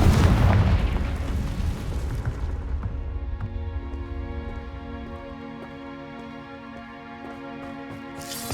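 A fire-blast spell in a fantasy video game explodes with a loud, deep boom that rolls into a long rumbling decay. Sustained tonal game music rings underneath as the blast fades, with no voices.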